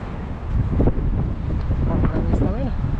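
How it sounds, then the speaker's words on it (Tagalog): Strong wind buffets the microphone on a fishing boat out at sea, a loud steady roar with gusts, while someone talks over it close by. "Medyo malakas na ang hangin mga toto."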